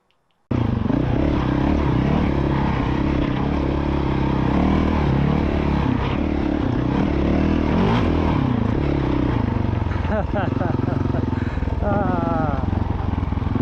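A Honda CRF450L motorcycle engine fitted with a flywheel weight starts and runs steadily close by, a continuous loud mechanical idle with slight wavering over the full length.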